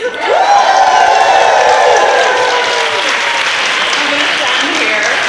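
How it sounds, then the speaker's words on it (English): Raucous applause from wedding guests at a reception, loud and sustained, with cheering and whoops over dense clapping, tapering slightly toward the end. "Thank you everybody for that raucous applause"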